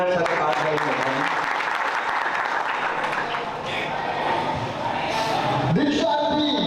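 Dense, continuous applause from an audience at a diksha farewell ceremony, loud and sustained throughout with crowd murmur beneath.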